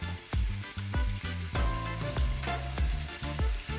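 Shrimp for scampi frying in butter in a pan, a loud steady sizzle with repeated clattering stirs and scrapes throughout, no talking.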